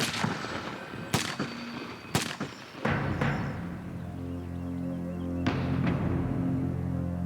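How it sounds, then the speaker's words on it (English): Several sharp, loud gunshots crack in quick succession, then fade into a sustained low rumble and ringing tones, with one more distant shot near the end. "both are killed in a hail of bullets."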